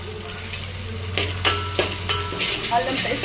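Browned onions frying in a pan as ginger paste goes in, a low steady sizzle broken by several sharp metal scrapes and taps of a spoon stirring against the pan.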